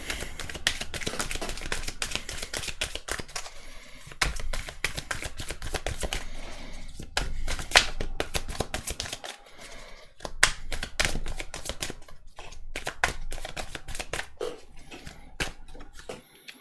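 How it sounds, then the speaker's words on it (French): Oracle cards from an Angel of Dreams deck are shuffled and drawn, giving a long run of crisp, dense papery riffles and flicks close by, with brief pauses and sharp card snaps throughout. "on va tirer 3 cartes de l'ange des rêves pour voir qu'est-ce que l'on nous conseille"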